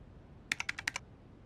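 Quick burst of about six keystrokes on a computer keyboard, close and crisp, clustered within half a second against quiet room tone, with no voice.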